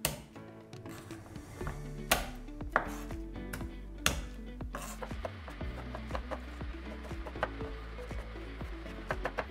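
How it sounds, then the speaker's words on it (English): A kitchen knife chops garlic and tomatoes on a board for a bouillabaisse. Quick rhythmic knocks come close and fairly quiet, with a few sharper thuds and no talking. "Next, we're gonna do the garlic and then finally chop our tomatoes as well."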